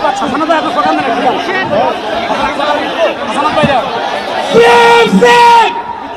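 A large rally crowd at a March for Gaza gathering in Suhrawardy Udyan chants and shouts together in rhythmic bursts, loud and dense, rising into a stronger collective cry near the end.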